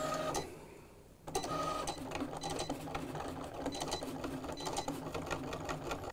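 A Cricut cutting machine cuts sticker material with a steady mechanical whirring and buzzing, its motor pitch stepping as the blade carriage moves, close and continuous after a brief pause near the start.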